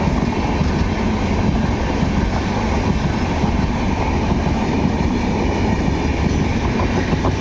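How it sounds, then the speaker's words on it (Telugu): A long Indian Railways passenger train rolls past close by in a loud, continuous roar, with rhythmic clatter from the wheels and carriages that holds steady throughout. "చాలా పొడవు ఉంది ఈ ట్రైన్ అయితే"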